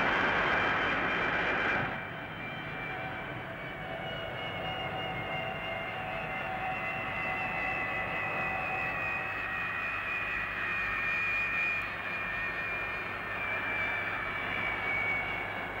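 A loud airplane engine drones steadily throughout, a constant whining roar that eases slightly after the first couple of seconds.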